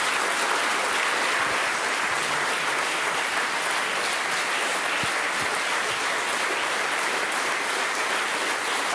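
Steady, dense audience applause fills the room for several seconds, loud and continuous with many hands clapping at once.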